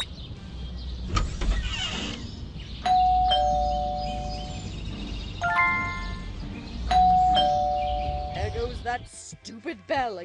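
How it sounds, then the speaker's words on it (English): Doorbell in the Scary Teacher 3D mobile game, a clear ding-dong chime ringing three times at intervals, mixed with game sound effects and a character speaking. "Bell again."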